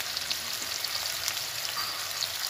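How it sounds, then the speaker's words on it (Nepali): Onions sizzle in hot oil in a pan while being stirred for a mushroom dish, giving a dense, continuous crackling hiss with small spoon scrapes and light clicks throughout. "प्याज हाल्यो नि प्याज हालेर चलाउने"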